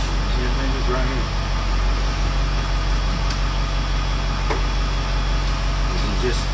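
A school bus engine idles and runs in a steady low drone, loud and close, with a constant rumble and faint mechanical whine throughout.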